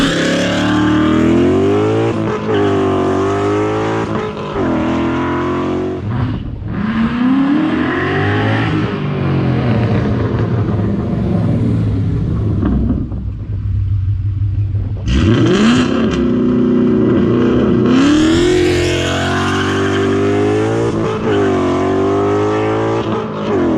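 A Ford Mustang with traction control on accelerates hard during drag testing of Steeda lower control arms, its engine revving loudly and climbing through several gear changes, dropping briefly before surging again.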